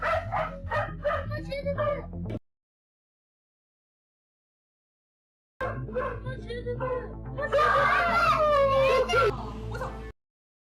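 Dog barking and yelping as a cheetah wanders into a residential area in broad daylight, sharp repeated barks in two bursts separated by a silent gap, mixed with voices and children's cries.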